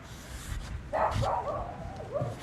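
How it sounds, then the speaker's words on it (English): A dog barks repeatedly near a fence, loud, close yips and barks in quick bursts over background noise. "Her bark is too much."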